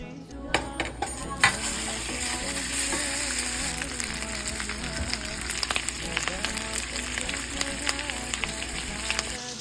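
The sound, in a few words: frying onion with whole spices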